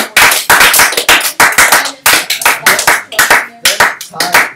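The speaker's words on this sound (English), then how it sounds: "let's give Jake a round of applause" A small group in a classroom claps for a student named Jake, loud, close, uneven bursts of individual claps with short gaps between them, sounding like only a few people.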